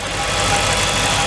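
A Dodge SRT8's engine idles steadily up close, a continuous, deep, even rumble with a faint mechanical tick running through it and no voices over it.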